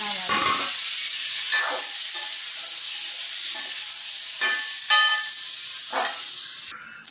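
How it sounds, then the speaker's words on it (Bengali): Peanuts frying in a pan with cumin powder and salt for an Ekadashi potato-peanut curry, a steady loud hiss of sizzling oil, with a few short scraping stirs recurring. "বাদাম বাদাম আমার একটু একটু ভাজা ভাজা হয়ে যাচ্ছে দেখো"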